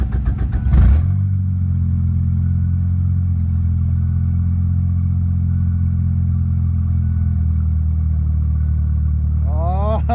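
A Probe car engine on a standalone ECU catches after cranking and settles into a rough, uneven idle, a loud close rumble that holds steady, ending with a brief rise in revs.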